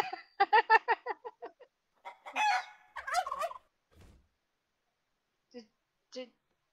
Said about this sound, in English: I just heard a chicken.